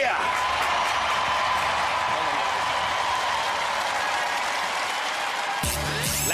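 Studio audience on the Robot Wars Extreme 2 set applauding the robot team Lamsey, a dense, steady wash of clapping with cheering mixed in that holds loud throughout and shifts abruptly near the end.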